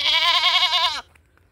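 A Gulabi breed billy goat gives one loud, close, quavering bleat lasting about a second before cutting off to near silence.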